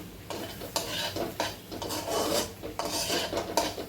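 Chilli and masala sizzle and scrape in a kadhai over a low gas flame, a steady close frying hiss broken by repeated rasping stirs of a spatula against the pan, no voices.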